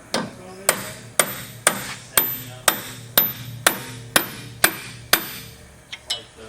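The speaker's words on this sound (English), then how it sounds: "We're going to use a hammer here and a punch, and you got to drive that axle in." A hammer striking a punch to drive a wheel axle into a Windstar wheel bearing assembly, about eleven sharp metallic blows at a steady pace, each ringing briefly before the next, close and loud.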